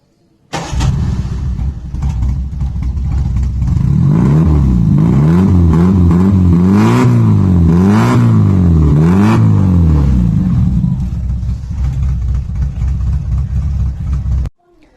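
A modified Premier Padmini's exhaust revs hard several times in a row, a loud, rasping roar rising and falling over a steady idle rumble, close by.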